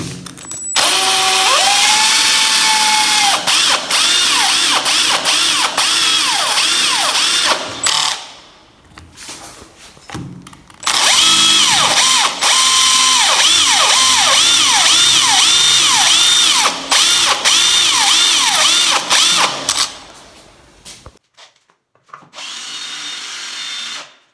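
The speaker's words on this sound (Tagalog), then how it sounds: "Yung nabili natin pambutas sa tiles." A power drill fitted with a tile hole-cutting bit whines loudly into ceramic tile in two long sustained bursts with a brief pause between them, then a shorter final burst.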